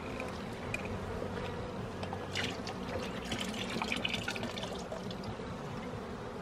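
Water runs into a pail for mixing bee feeding syrup near the hives, a continuous splashing fill under the near, steady buzz of bees and flies, with no talk.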